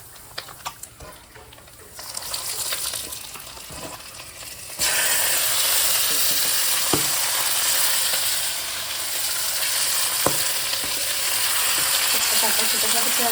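Washed chicken pieces, including liver and gizzards, dropped into a hot pan for chicken fry, with quiet clatter first and then a sudden loud, continuous sizzle and occasional stirring clicks.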